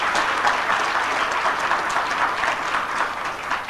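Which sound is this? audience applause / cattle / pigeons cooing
audience applause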